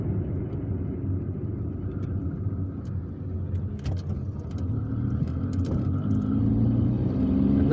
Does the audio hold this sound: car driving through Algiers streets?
yes